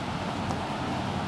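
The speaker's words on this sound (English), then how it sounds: "pardon the wind, it is a bit of a windy day" Gusty wind on a windy day outdoors, a steady, close, rumbling roar buffeting the microphone with no other distinct sounds over it.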